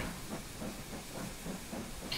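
A steam locomotive, one of the Lizzie class, hisses steadily as it works hard up a steep grade of about 1 in 27, with a broad close roar of steam and faint rhythmic chuffing beneath it.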